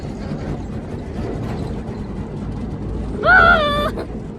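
Riding aboard a train along a river, a low continuous rumble of the carriage in motion with a brief high squeal of wheels near the end; a voice is heard faintly over the noise.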